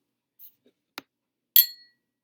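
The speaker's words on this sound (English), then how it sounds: "get a bottle of beer and a wine glass, and you're going to tap them" An empty beer bottle and a wine glass are tapped in turn, giving a few sparse, isolated taps close to the listener. The last strike rings bright and glassy, with a short decaying ring in otherwise silent surroundings.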